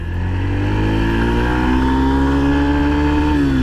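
Yamaha FZ-S V3 150cc motorcycle pulls hard in first gear, its engine note climbing steadily and loudly in pitch, then easing off near the end; no talking.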